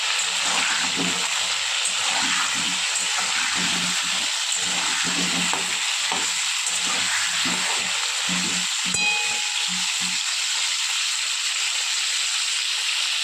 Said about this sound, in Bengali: খুব ভালো করে লাল করে ভেজে নেবো প্রথমে